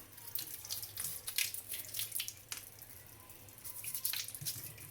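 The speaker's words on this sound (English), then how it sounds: "So you have to just clean it under running water." Running tap water splashes over a fine dishwasher drain filter from a Voltas Beko DT8S table-top machine as it is rinsed, with a steady nearby flow broken by irregular splattering bursts and no speech.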